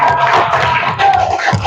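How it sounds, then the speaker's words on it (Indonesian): Fourth-grade classroom of children clapping and cheering for a group that has just presented, a loud, dense burst of hands and voices throughout. "tepuk tangan untuk kelompok Abu Bakar."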